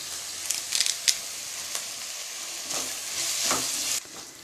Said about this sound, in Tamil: வெங்காயம் சேர்த்து கொஞ்ச நேரம் நல்லா வதக்கி விடலாமா